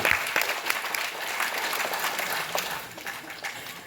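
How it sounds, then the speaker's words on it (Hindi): An audience at a business meeting class claps together, with loud sharp handclaps at the start that settle into a steady, fairly close round of applause. "ताली बजाओ, नंबर 2।"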